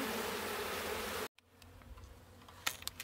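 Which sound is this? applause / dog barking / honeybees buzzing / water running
honeybees buzzing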